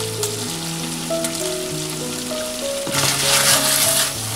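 Chicken with walnuts frying in sweet bean sauce in a hot wok sizzles steadily and loudly, swelling briefly as it is stirred, over soft background music.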